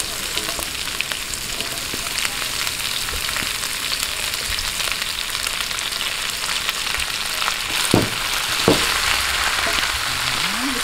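Chicken feet sizzle steadily in a pan for sweet and spicy chicken feet adobo, a continuous bright frying hiss with a few faint clinks, no talking.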